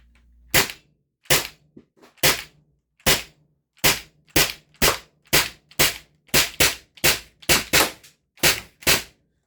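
An Umarex HDB 68 CO2 air pistol running on a SodaStream CO2 bottle at 75 joules fires about fifteen sharp, close shots in a quick, slightly uneven string, with short silences between them.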